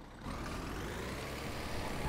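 A MAN TGS Euro 6 truck in the BeamNG.drive game idles with a steady low diesel rumble, continuous and fairly close, with no talking over it.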